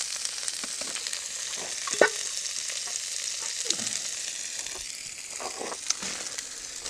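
Onions and celery frying in a cast iron pot for venison stew, a continuous close sizzle with occasional stirring scrapes and pops, no voices.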